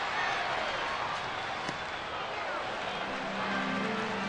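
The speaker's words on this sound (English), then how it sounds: "Now the crowd is buzzing." A baseball stadium crowd, Detroit at Texas, keeps up a broad, steady buzz of murmuring and cheering that sounds distant and constant, heard under close commentary.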